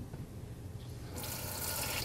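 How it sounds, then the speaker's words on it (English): Room-temperature water gushes steadily from a kitchen sink tap, starting about halfway through after a quiet moment, close by and fairly loud as a Calathea plant is brought over to be watered. "I'm just going to turn on some lukewarm water"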